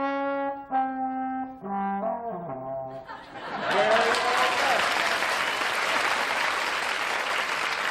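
A studio audience at a television game show breaks into loud, sustained clapping that fills the room evenly, following a short run of descending musical tones.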